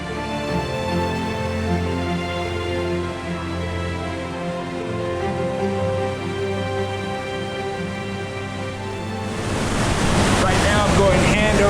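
Water rushes steadily down a waterfall inside Jumandi Cave, a close, loud, continuous roar that swells stronger toward the end, with no talking.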